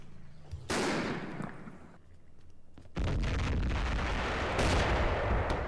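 Artillery fire in the wargame Panzer Campaigns Kiev '43: a first booming blast, then a fading rumble, then a second heavier barrage with roaring explosions that carries loud through to the end.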